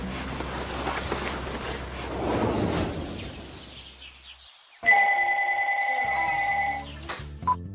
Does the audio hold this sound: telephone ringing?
yes